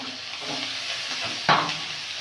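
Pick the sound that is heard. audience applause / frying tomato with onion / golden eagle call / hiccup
frying tomato with onion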